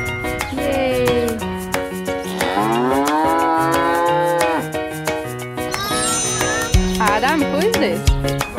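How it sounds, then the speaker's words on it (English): A cow on a farm moos loudly and repeatedly in long, bending calls close by, with bell-like tinkling over the top and voices briefly in the background. "Cow."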